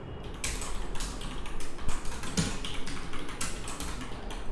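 Keys clatter on a computer keyboard in quick uneven bursts, close and fairly quiet, with no voices over the tapping.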